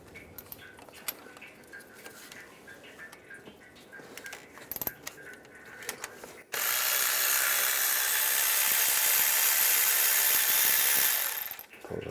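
Ratchet fitted with a 13mm socket loosening a bolt on a 2002-2008 Dodge Ram 1500 during water pump bypass tube work, faint clicking at first, then a loud sustained mechanical whir lasting several seconds, close by.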